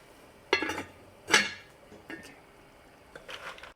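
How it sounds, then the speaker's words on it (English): A spoon clinks and scrapes against a pot while mussels are stirred into saffron broth, a few distinct metallic knocks spaced apart, quiet and close with no talking. "Add 2 pounds of mussels, stir to combine, cover and cook for about 2 minutes"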